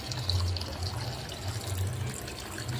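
Water poured and splashing steadily while rinsing a freshly soaped Honda Click V3 scooter outdoors, a continuous close-up wash with no speech.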